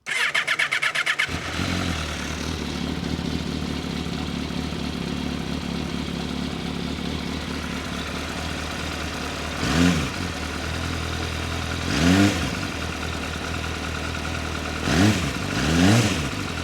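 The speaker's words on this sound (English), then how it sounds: "this engine sounds pretty good. Take a listen to the stock setup on the 2012 MV Agusta F4." A stock 2012 MV Agusta F4 sport motorcycle engine cranks and fires up, settles into a rough, throbbing idle, then revs sharply several times in short bursts.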